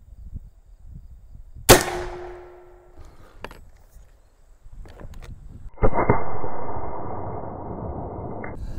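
A .72 caliber AEA Zeus big bore airgun fires at a small target 50 yards out: one sharp loud report with a short ringing tail, a few faint clicks, then a sustained hissing, buzzing noise near the end.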